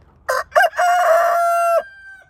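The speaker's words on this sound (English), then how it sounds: "that's a Lakeshore egger rooster" A Lakeshore egger rooster crows once, loud and close: two short clipped notes, then a long sustained harmonic call that cuts off sharply.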